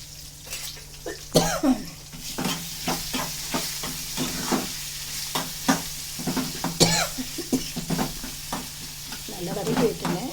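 Onions and spices sautéing in a pan with a little salt and mango, a steady sizzle broken by repeated scraping stirs of the spoon, close and fairly loud.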